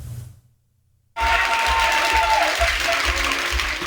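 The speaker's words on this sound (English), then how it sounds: "The sound of cheering Cable Bahamas employees filling the ballroom of the British Colonial" Company employees at an awards event in the British Colonial ballroom break into loud, sustained applause and cheering after a brief silence, filling the room with dense clapping.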